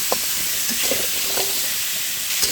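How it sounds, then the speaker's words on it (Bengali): Potatoes with salt sizzle in a little oil in a pan with a steady hiss, broken by occasional stirring clinks and scrapes close by. "আলুটা একটু ভেজে নেবো"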